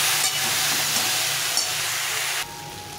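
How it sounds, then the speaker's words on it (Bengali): Mixed vegetables, including green banana and banana stem, fry with turmeric and salt in a pan while being stirred. A steady, loud hiss of sizzling drops abruptly in level near the end. "দিয়ে আর একটু এটাকে নেড়ে চেড়ে ভেজে নিতে হবে।"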